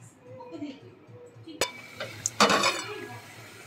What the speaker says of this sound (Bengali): এখন ঢেকে দিচ্ছি